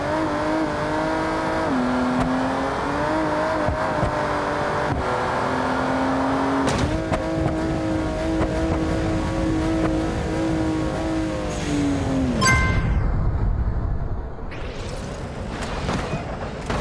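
A Toyota Supra in BeamNG Drive drones with a steady, loud engine note that shifts pitch as it revs, ending in a sudden impact and crash noise near the finish.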